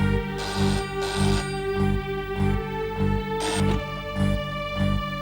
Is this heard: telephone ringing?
yes